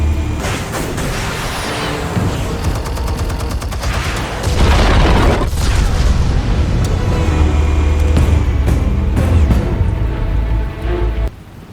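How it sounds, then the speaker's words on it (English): Explosives go off in the Batman Telltale Series video game: loud, close booms and crackling bursts pile up into a dense, rumbling barrage with a deeper blast partway through that then keeps thundering. "Explosives armed. Fire when ready."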